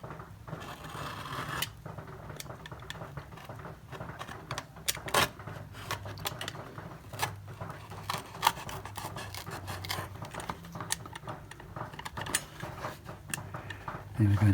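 A sharp knife scores and cuts through building material with a run of dry, scratchy clicks and short rasping strokes, close up and steady, and a faint low hum sits underneath.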